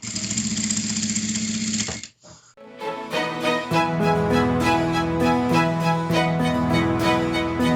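A sewing machine stitches a fabric mug rug up close. A dense whir stops abruptly, a brief pause follows, then a rhythmic, loud tonal stitching run picks up and continues steadily to the end without speech.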